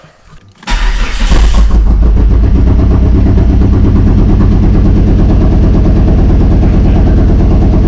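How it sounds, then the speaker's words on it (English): Dodge SRT-4 turbo engine cranking and catching, then running loud and rough with an uneven, stumbling misfire pulse that carries on steadily to the end, close by and with no talk over it. "That's misfiring like crazy."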